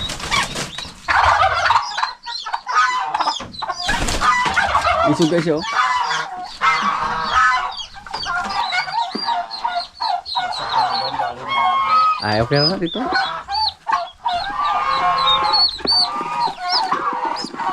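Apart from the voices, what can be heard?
chickens clucking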